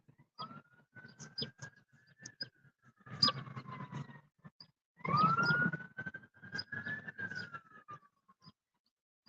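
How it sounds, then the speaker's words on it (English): Emergency vehicle sirens wail in the distance, rising and falling in long sweeping tones over some nearby rustling and thumps, with no one talking. "Listen to them sirens always."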